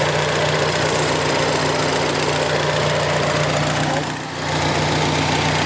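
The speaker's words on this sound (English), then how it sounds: "This one does have Ford's 2-liter turbocharged EcoBoost 4-cylinder." The 2-liter turbocharged EcoBoost four-cylinder in a 2014 Ford Focus ST with Cobb Stage 3 parts and a cold air intake idles loudly and steadily with a low hum, briefly dipping once, and no talking.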